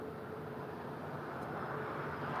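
JetBlue Airbus A320 in Boston Red Sox livery landing on runway 25 left at LAX, a steady, moderately distant jet rumble and whine holding level throughout with no talk.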